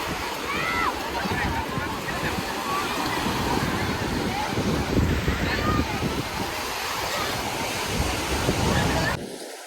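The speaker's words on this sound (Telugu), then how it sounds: "బీచ్ అలలు" Sea waves roll onto Shivrajpur beach in Gujarat, a continuous loud roar of surf mixed with wind buffeting close by, with voices faintly underneath.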